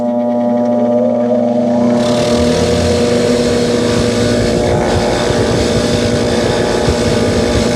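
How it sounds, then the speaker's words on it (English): A bench grinder spins up with a wire wheel scouring the wheel lug nuts of a Porsche 914, a loud steady whine and rasp that starts abruptly and keeps grinding close by without talk. "It's time to go take them over to the wire wheel on the bench grinder."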